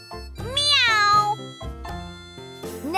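A cartoon cat's meow from a children's English-learning show sounds as a single bright, rising-then-falling call up close, followed by shorter tonal cries, musical backing tones underneath.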